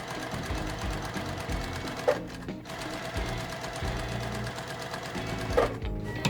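A sewing machine stitches down both sides of paired fabric squares with a fast, steady mechanical chatter. The sound is close, broken by two brief pauses, and no one talks.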